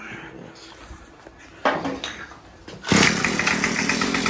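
A small engine, just repaired and now idling, runs with a steady buzzing drone that rises sharply louder partway through and keeps going close by.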